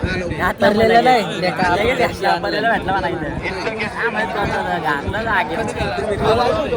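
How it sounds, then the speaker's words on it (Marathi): Dense crowd chatter and shouting, loud and close, fills the grounds of a bullock cart race at Morgaon, with many voices overlapping continuously. "फुल गर्दी आहे इथं शर्तीला."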